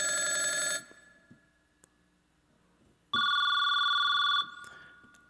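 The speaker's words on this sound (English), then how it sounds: "A couple of different telephones." Two telephone ring sound effects from a Roland FP-30X digital piano, one a rapid electronic trill, then after a pause a steady bright bell-like ring, both loud and alone.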